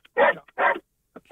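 A dog barks twice in quick succession, sharp and fairly close, with a faint yip before and after, heard alone with no talk.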